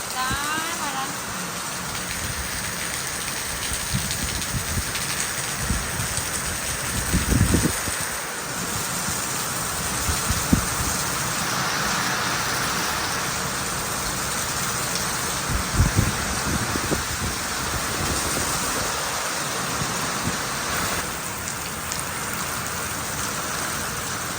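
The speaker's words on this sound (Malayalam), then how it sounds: "ഭയങ്കര കാറ്റും മഴയൊക്കെയാണ്" Steady heavy rain pours throughout, a dense hiss with occasional thuds and gusts rising briefly; no voices.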